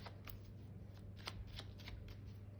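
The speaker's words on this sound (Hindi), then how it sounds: "तो इससे भी मैं कुछ कार्ड्स निकालूंगी" Tarot cards are drawn from a deck, making faint, quick papery flicks and slides in a quiet room.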